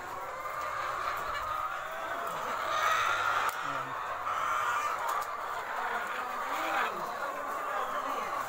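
Chickens at an egg-layer farm in Cantanghos, Baybay, a constant mass of clucking and squawking from many hens, moderately loud and steady throughout.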